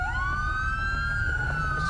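Wailing police siren from the video game GTA V, a steady rising tone that holds loud and continuous over a low engine rumble, close by with no talk.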